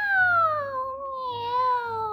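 A voice imitates a cat's meow as a singing warm-up vocalise, in one long, drawn-out, gliding call with a falling then wavering pitch, close and clear.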